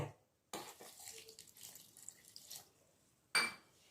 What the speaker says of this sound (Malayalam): അതിൽ കുറച്ച് അര ഗ്ലാസ് വെള്ളം ഒഴിക്കുക